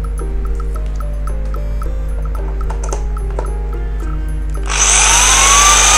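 A Bosch three-function 220V hammer drill, a Japanese domestic-market model, hums steadily with a tonal motor whine, then bursts into a loud, harsh full-speed run for the last second or so.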